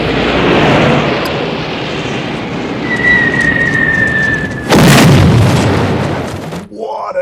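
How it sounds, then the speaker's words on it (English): A bombing-raid explosion in the war film Empire of the Sun: after a sustained roar of aircraft with a thin whistle, a loud broad boom bursts in and then decays. "What an explosion!"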